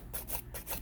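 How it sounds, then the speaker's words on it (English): A nail file rasps back and forth on a fingernail during a reverse pink and white nail demo, giving four quick rhythmic strokes, close and fairly quiet, with no talking. "rock in your shape using your file."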